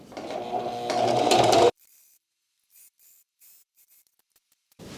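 A sewing machine stitches a seam on a wedding guest dress with the presser foot lined up along the first seam, a loud steady whir for under two seconds that stops abruptly, followed by near silence and faint handling sounds.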